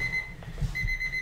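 A tea timer alarm sounds as a steady electronic tone that breaks off briefly and then resumes, with faint muffled thumps underneath.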